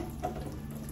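Water runs steadily from a tap while dishes are washed before cooking, a constant close hiss with no break.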